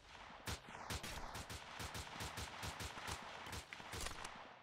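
Rapid bursts of automatic gunfire from enemy bandits firing out of rocks in the video game Freeman: Guerrilla Warfare, dense repeated shots in a steady staccato over about four seconds, loud and close with no talk.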